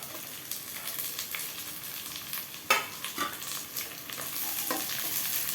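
Onion, ginger and garlic roast in hot oil in a pan, a steady close sizzle broken by a few sharp scrapes and stirring clacks, with no voices.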